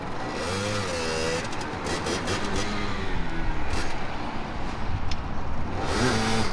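A Sherco 50cc two-stroke supermoto motorcycle engine revs and buzzes continuously nearby, its pitch rising and falling as it accelerates, loud and steady throughout with no talk over it.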